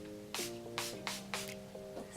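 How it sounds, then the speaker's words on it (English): Milani Make It Last setting spray hisses out in four quick, close bursts spaced roughly evenly, each a short soft spritz over a faint background hum. "don't open your mouth though when you're spraying it because it tastes bad"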